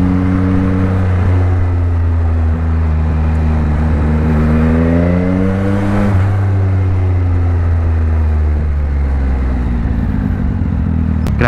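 A Yamaha XSR900 motorcycle's exhaust while riding in traffic: a loud, close engine drone that rises and falls in pitch as the throttle opens and eases, then settles into a steady, strong note.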